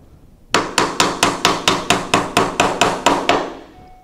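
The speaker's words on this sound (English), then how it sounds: "I'm going to try to hold this and hammer at the same time." A hammer strikes wooden birdhouse pieces in a fast, even run of about a dozen sharp, loud knocks, each decaying quickly before the next, close-up with no voices.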